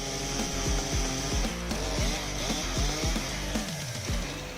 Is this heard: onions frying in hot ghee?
no